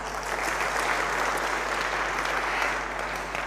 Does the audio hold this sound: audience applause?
yes